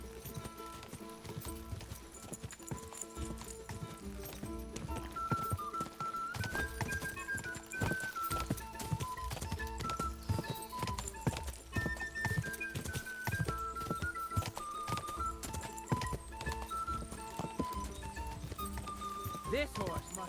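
Horse hooves gallop in a steady clip-clop rhythm during a race in the video game Kingdom Come: Deliverance II, running continuously under game music and occasional voices.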